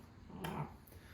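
A dog gives a brief, low growl that slides into a whimper, one short sound near the middle, fairly quiet over a low background hum.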